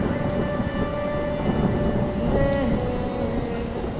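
Heavy rain pours steadily in a thunderstorm, with a continuous hiss of drops hitting surfaces and deep rumbling thunder rolling underneath, no voices present.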